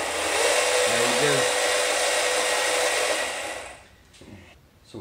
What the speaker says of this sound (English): now as I try to get the motor started